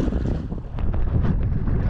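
A West Marine inflatable boat pushes through choppy waves, with rushing wind buffeting the microphone over a rumbling, slapping wash of water that swells and eases irregularly.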